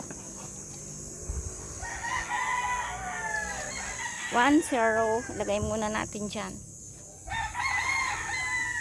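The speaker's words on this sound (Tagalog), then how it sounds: "Daming mga manok." Several chickens crow and cluck, with a long rising crow standing out, while a person talks over the noisy outdoor scene.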